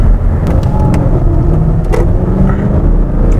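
A 2007 Lexus LS460 long-wheelbase sedan with a 380-horsepower engine accelerating on the road, heard from inside the cabin as a loud, steady low rumble of engine and road noise with faint clicks and no talking.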